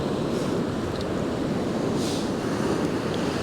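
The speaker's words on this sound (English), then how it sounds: "you get the big huge wave like that one, it comes over the top of your wellies" Ocean waves surge and break on the beach at Happisburgh, a steady, loud wash of surf with wind rushing across the microphone throughout.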